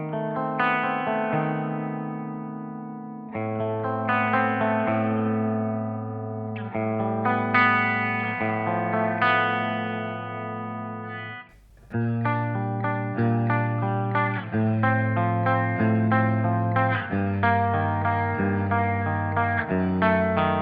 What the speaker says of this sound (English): let's try and adding a bit of reverb